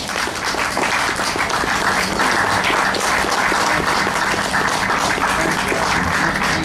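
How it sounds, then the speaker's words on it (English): Sustained applause from an audience for a panel at a Hempfest event stage, dense steady clapping that stays loud throughout with no speech over it. "let's give this panel a big round of applause"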